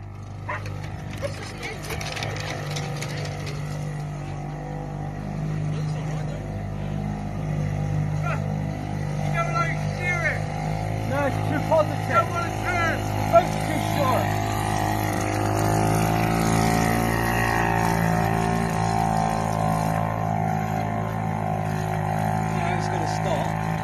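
A 53-year-old Seagull outboard motor, a barn find, runs continuously with a close, steady putter and watery churn. Voices come and go over the engine.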